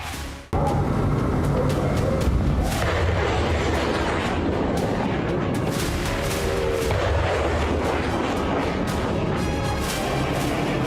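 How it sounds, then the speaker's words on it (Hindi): Bombing and artillery fire in the Middle East: loud, continuous booms and blasts roll one after another with no pause, dense rumbling filling the whole stretch after a brief quiet start. "मिडिल ईस्ट में बमबारी हो रही है।"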